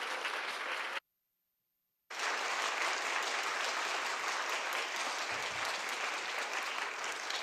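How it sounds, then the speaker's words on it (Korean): A church audience at a parents' prayer meeting applauds loudly and steadily to welcome a speaker, with one brief silent break, the clapping dense and continuous. "우리 강사님 나오실 때 큰 박수로 맞아주시기 바랍니다."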